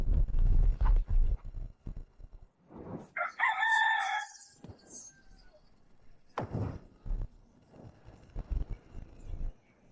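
A rooster crows once in the middle, a loud harmonic call standing out between bursts of other noise, with rustling and knocks before and after and no clear talk.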